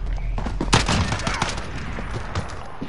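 Bursts of rapid gunfire and shotgun-like blasts in an online shooter game, loud and close, with a sharp cluster of shots near the start and scattered shots after.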